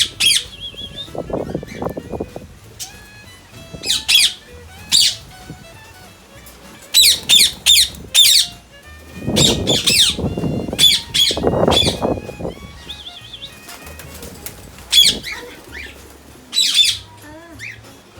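Birds in an Auckland, New Zealand garden squawk in repeated sharp bursts, with wings flapping in between and low rustling throughout. The sound is fairly close and no one speaks.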